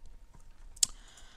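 A single sharp computer mouse click stands out clearly against a quiet room, with faint background noise before and after.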